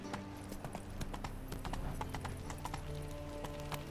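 Horse hooves clip-clop steadily at a quick rhythmic pace in The Witcher 3 video game, the steps loud and close over a low background hum.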